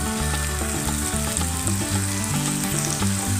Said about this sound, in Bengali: এবার আমি যে ম্যারিনেট করা চিকেনটা এর মধ্যে দিয়ে দেবো।